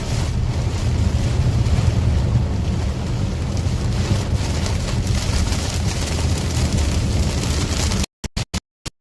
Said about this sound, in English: Strong winds though right here